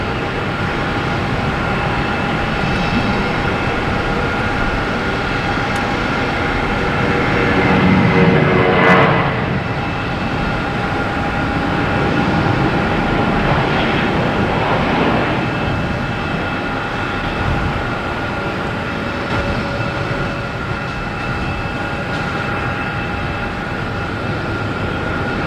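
A JetBlue Airbus A320 takes off from Boston Logan bound for Atlanta, its engine roar swelling to a peak partway through and then easing into a sustained, fading rumble, with no talk.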